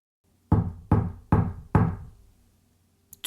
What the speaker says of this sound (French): Il frappe à une autre porte